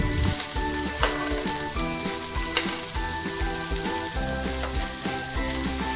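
Chopped onions, garlic and green chilli fry in a kadai with a loud, dense sizzle and crackle, while a steady background hum and music-like tones run underneath.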